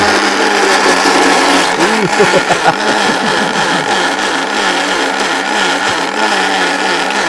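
A kitchen blender pulses fibrous spinach for palak paneer, a loud, steady motor whir that runs throughout with small bursts and dips in pitch as the leaves catch and churn.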